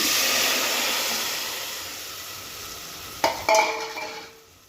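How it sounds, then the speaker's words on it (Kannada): Spices frying in hot oil for tomato rasam hiss steadily, then tomato puree goes in with a couple of sharp bursts and clatters before the sizzle settles, with no talking. "ಈ ಪುಡಿ ಎಲ್ಲ ಎಣ್ಣೆಲಿ ಫ್ರೈ ಆದ ನಂತರ ಇದಕ್ಕೆ ನಾನು ಮಾಡಿಟ್ಕೊಂಡಿರೋ ಟೊಮೊಟೊ ಪ್ಯೂರಿ ಆ್ಯಡ್ ಮಾಡ್ತಾ ಇದ್ದೀನಿ"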